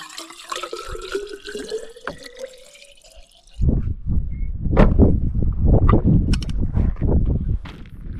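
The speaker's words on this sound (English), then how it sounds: "let's fill up our water." A water tap runs on a scorching dry day, starting with a thin trickle and then switching to a louder, steady gushing spray of filling water, close by with no talk.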